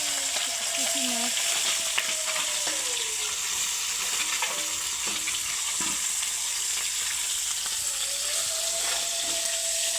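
Small puti fish sizzle in hot oil in a wok, a loud, continuous crackling hiss heard close up for the full stretch, with brief spoken bits now and then.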